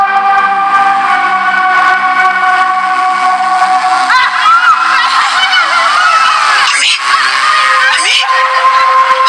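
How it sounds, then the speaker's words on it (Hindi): Several women scream and wail loudly at once in a house of mourning, with rising, sobbing cries layered over a constant high, strained drone that runs throughout. "अम्मी औरतें चीख रही है अम्मी"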